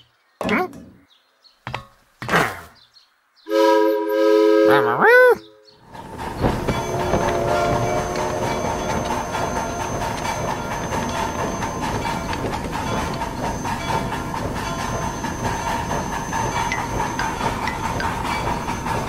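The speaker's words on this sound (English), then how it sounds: "Big Blue's locomotive pulled 97 train cars." A cartoon train locomotive in a kids' counting game pulls a long line of cars, with short game sounds and tones first, then a steady rolling clatter of wagons that runs loud and even to the end.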